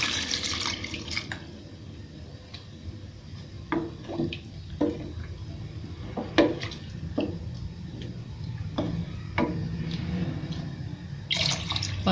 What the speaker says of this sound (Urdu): اب اس کے اوپر ہم ڈال دوں گی پانی